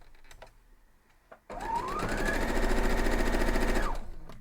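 A sewing machine stitches a white fabric piece onto a strawberry patch quilt block, a steady rapid needle clatter that starts abruptly and runs for about two and a half seconds, close and alone after a quiet pause.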